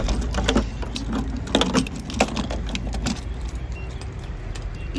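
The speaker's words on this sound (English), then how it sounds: "you have to use a key to get into the gas tank" A key rattles and clicks in the locking gas tank cap of a van, several sharp metallic jangles and taps up close over a low background rumble.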